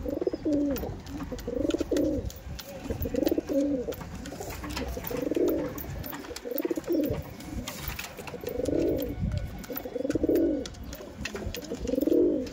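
Madrasi pigeons coo over and over in a steady rhythm, their deep, throaty calls repeating close by for the whole stretch with no voices.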